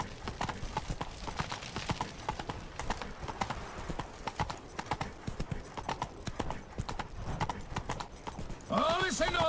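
Roach the horse gallops in The Witcher 3, with quick rhythmic hoofbeats close up and a voice speaking over them, and a brief sharper burst near the end.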